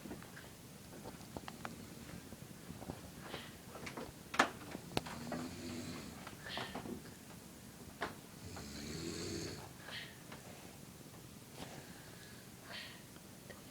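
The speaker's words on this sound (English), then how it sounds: "they won't stop snoring" Two sleeping parents snore in slow, uneven rhythm, low rumbling breaths with occasional snorts and rustles, quiet and close in a still bedroom with no talking.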